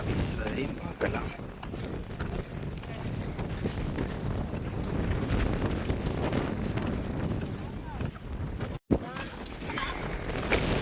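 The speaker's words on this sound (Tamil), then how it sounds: "அதோட காற்றும் வீசுறதையும் பார்க்கலாம்." Wind blows steadily against the microphone in a low rumbling rush, with a brief dropout near the end; no clear voices stand out.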